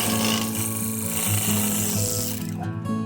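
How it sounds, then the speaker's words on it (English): A scraper shapes an oak ashtray blank spinning on a wood lathe, giving a steady, close rasping scrape that holds evenly for about three seconds under the hum of the machine, with no one speaking. "After roughing out the basic shape with the scraper"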